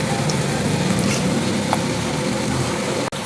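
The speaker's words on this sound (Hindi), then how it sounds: "तेल हमारा गर्म हो चुका है। इस टाइम आगे मेरे पास आलू की चिप्स इसके अंदर ऐड कर देंगे।" Potato chips frying in hot oil for crispy KFC-style fries, a dense, loud, even sizzle that fills the whole stretch with no talking.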